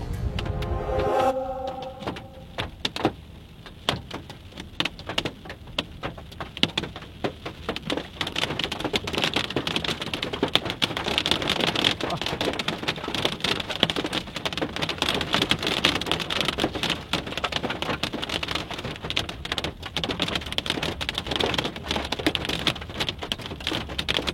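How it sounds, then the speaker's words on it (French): Rain and hail pound steadily during a storm, a dense, loud patter of drops striking surfaces throughout, with no voices. "des chutes de grêle impressionnantes ont été reportées un peu plus loin, et nous n'en aurons qu'un petit aperçu pour refermer cette journée"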